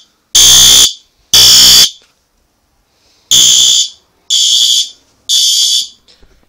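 A fire alarm system under test blares in loud electronic bursts: two long blasts, a pause, then three more, each cutting off sharply into near silence.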